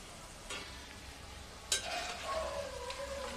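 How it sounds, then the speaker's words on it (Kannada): Onion pakoda deep-fries in oil over a medium flame, a soft steady sizzle with a couple of sharp clinks as batter goes in, close and quiet. "ಈ ಪಕೋಡ ನಾವು ಕರಿಯುವಾಗ ಮೀಡಿಯಮ್ ಉರಿ ಇಟ್ಕೋಬೇಕು"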